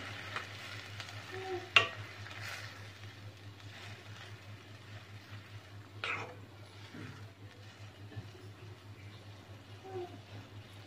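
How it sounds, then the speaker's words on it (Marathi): Grated bottle gourd halwa mixture being stirred with milk in a pan, soft low sizzling and occasional spoon scrapes and knocks against the pan under a steady hum, quiet and close. "चांगलं मिक्स करून घेऊया"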